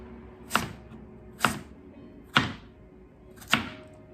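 A knife chops sweet potatoes on a cutting board in a home kitchen, making four evenly spaced, crisp thuds, each close and distinct, with quiet between them.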